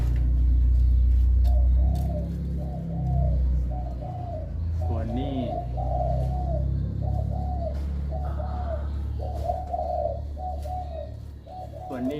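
Soft, repeated spotted dove coos in a steady rhythmic pattern, close by, over a low background rumble and occasional faint talking.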